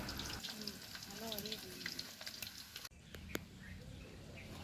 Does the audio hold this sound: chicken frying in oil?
yes